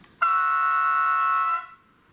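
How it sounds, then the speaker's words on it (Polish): A steady, reedy model train horn sounds for about a second and a half, then fades into a brief soft electronic hiss. "Po zakończeniu trąbienia jest nagrany taki szum niefajny."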